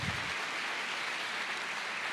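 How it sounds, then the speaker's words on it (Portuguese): A crowd claps steadily in a continuous wash of applause during a church service, broad and even, filling the space for the whole stretch. "Pode aplaudir o Senhor."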